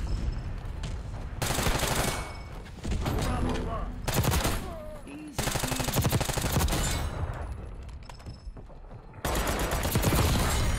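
A C9 submachine gun fires in rapid full-auto bursts in Call of Duty: Black Ops 6, several loud sustained strings of gunfire separated by brief pauses, with a player talking between and over the shots.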